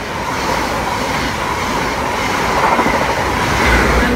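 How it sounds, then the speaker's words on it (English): An HST passenger train runs through platform 2 at Ealing Broadway station, heading for London Paddington, with a loud, steady rumble of wheels and rail noise that rises slightly toward the end. "Number HST passing platform number 2 for London Paddington."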